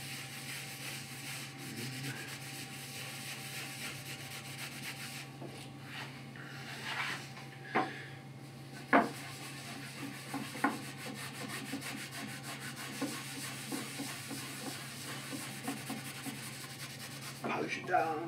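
A wooden pentagonal box is rubbed down by hand with sanding and polishing strokes: quiet, close, steady scuffing with a few sharper knocks and handling sounds.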